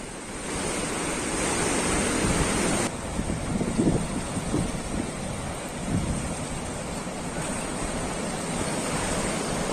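Heavy sea waves crash continuously off the coast at Mangaluru, a loud, dense roar of surf with churning rumble and no pauses, close and enveloping.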